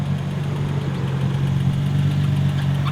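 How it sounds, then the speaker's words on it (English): A Nissan 350Z idles close by with a steady low engine hum and a faint rapid ticking from the lifter valves running through it, constant and even with no voices. "If anyone knows what that ticking noise is, it's the lifter valves"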